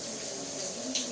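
A newly installed overhead shower runs with a steady, broadband hiss of falling water, constant and close, with no talk over it.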